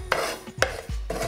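Cumin, coriander seeds, poppy seeds and sesame are browned together in a pan, with the clink and scrape of a utensil against the metal and a faint sizzle, close by and without talk.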